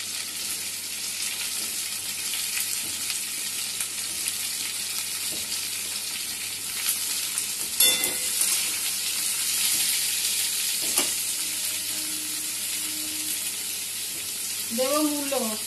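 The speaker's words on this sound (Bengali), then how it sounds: "সব সবজিগুলো দিয়ে আবার ভালো করে ভেজে নিয়ে ঢাকা দিয়ে দেব" Mixed vegetables, including papaya, potato and radish, fry in a pan with a steady, close sizzle and occasional stirring scrapes, while a voice talks over it now and then.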